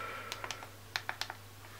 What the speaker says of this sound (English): Typing is as easy as it would be on a normal physical keyboard.